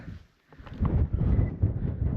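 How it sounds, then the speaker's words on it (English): Wind buffets an exposed hilltop in Wales, rushing and thumping across the microphone in loud, uneven gusts after a brief lull at the start. "it's a bit windy up here"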